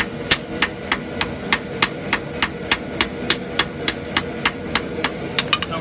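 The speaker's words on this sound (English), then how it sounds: "Next step is to forge weld this thing solid." Hammer blows forge welding a Viking axe, about fifteen sharp metallic strikes in a steady rhythm, then a quicker cluster of lighter taps at the end, loud and close over a low background roar.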